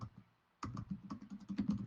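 Quick, light keystrokes clatter on a computer keyboard in a short burst of typing after a moment of near silence, close and soft.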